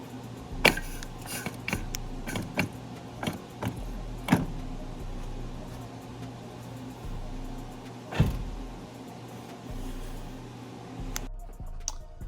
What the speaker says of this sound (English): Gonna get in the car.